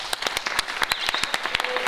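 A theatre audience applauds the dancers at a Békéscsaba premiere, a sparse, moderately loud patter of individual claps at uneven intervals with a faint tonal sound partway through.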